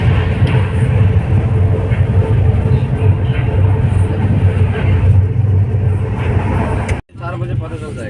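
The Sealdah-Kamakhya Humsafar AC special train rolls along with a steady low rumble and clatter heard from inside the coach, with a brief dropout near the end; a person talks over the running noise.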